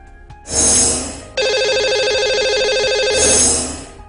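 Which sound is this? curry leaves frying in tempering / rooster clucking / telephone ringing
telephone ringing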